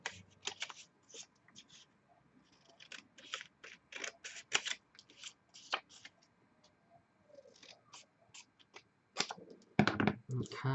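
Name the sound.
scissors cutting out a paper galah shape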